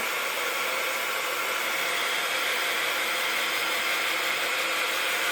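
A hair dryer blows steadily on a stamped paper craft project, a loud, constant, close whoosh that holds unchanged throughout with no speech.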